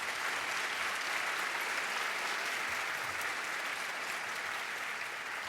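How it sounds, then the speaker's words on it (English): An audience at a keynote lecture gives a sustained round of applause, thick and uniform throughout, heard from a moderate distance with no voices on top. "So would you give all of them a round of applause,"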